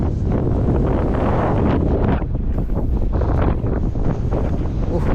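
Loud, blustery wind at a spot in Idukki, Kerala, buffets the microphone in a continuous roar, easing briefly and then gusting again.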